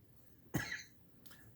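A single sharp cough bursts out near the mic during a pause in a sewing session for a wristlet, followed by a short breathy tail and a faint second sound, with no talking.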